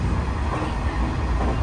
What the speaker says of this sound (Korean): 우리 기차가 왔다.